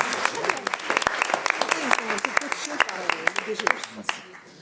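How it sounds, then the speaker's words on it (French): Scattered, sharp hand claps from a small audience after a presentation on participatory social housing, close and uneven, while a voice keeps talking over the applause throughout. "On applaudit, non ?"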